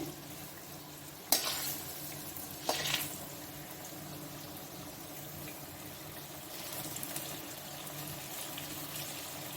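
Dahi vada fritters fry in hot oil with a soft, steady sizzle, broken by two sharp clinks as they are flipped, then bubbling continues quietly with no talking.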